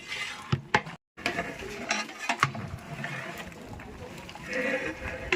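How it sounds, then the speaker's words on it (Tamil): Mutton being stirred with mutton masala in a pot, scraping and clinking of a ladle against the metal in irregular strokes, with talking over it and a brief dropout. "நல்லா கிண்டி விடணும் நல்லா மசாலாவோட"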